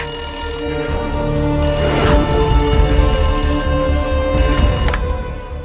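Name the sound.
phone ringing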